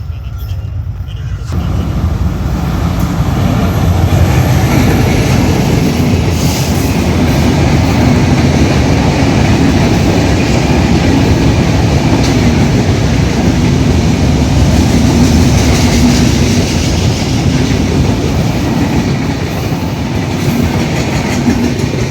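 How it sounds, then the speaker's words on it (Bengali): A local train stands at Tilakpur railway station in Adamdighi, Bogura, with a steady loud rumble of rail cars and wheels, and some clattering, continuing throughout at close range. "এটা তিলকপুর ট্রেন স্টেশনে লোকাল ট্রেন দাঁড়ালো"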